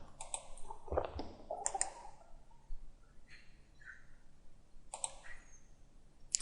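A computer mouse clicks quietly a few times during CAD modeling work in Inventor, sparse single and double clicks with long pauses in a hushed room.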